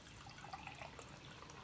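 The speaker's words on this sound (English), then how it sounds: "Okay, so let's go pour out our tea." Warm Earl Grey tea is poured into a cup, a soft, quiet trickle and patter of liquid that runs steadily without any talking.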